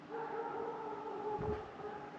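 A dog howls in a drawn-out, wavering tone that holds steady for about two seconds. It is moderately close, with no talking over it.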